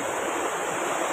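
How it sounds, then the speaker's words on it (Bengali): Waterfall in the Ayodhya hills of Purulia, a loud, dense, continuous rush of falling water heard close by for a brief moment, with no talking. "ঝর্ণার আওয়াজ"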